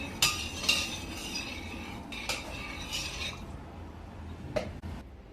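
A spoon stirring sugar and corn flour mixture in a pot for pepeçura, a Black Sea grape dessert, giving scattered faint metallic scrapes and clinks, intermittent and close, without talk.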